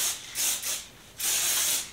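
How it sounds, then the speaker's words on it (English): Three hissing bursts of a heat protectant spray bottle onto hair, close by, with short pauses between them; the last spray is the longest. "spraying my hair"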